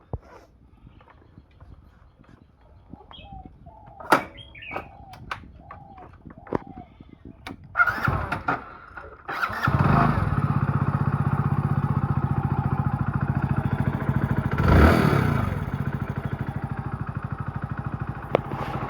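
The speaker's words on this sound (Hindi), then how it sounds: "ये गाड़ी स्टार्ट कर लेते हैं।" After a few clicks and light knocks, a motorcycle engine cranks and fires up, then idles with a loud, steady rumble, briefly revving midway; the engine is making an unusual noise.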